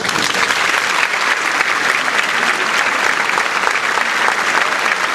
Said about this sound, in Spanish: ese aplauso del público para usted. Ese es el aplauso, el cariño del respetable